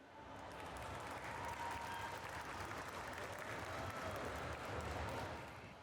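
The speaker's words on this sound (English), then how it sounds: "Let's give them a big round of applause" A concert crowd at a main-stage performance claps in steady, loud applause that swells in and fades out over several seconds.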